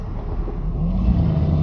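Rush hour road traffic heard from inside a moving car in Gulfport, a steady low engine and road rumble with a faint rising drone, close and continuous, no voices.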